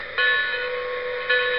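A bell ringing loud and close: two bright metallic strikes, each followed by a sustained, evenly ringing tone that carries between them.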